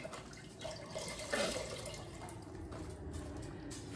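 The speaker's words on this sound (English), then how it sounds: "So a quart of vegetable broth, and let's get that going" Vegetable broth poured from a carton into a cooking pot, a steady liquid splash and glug filling the pot for a few seconds, close and moderately loud.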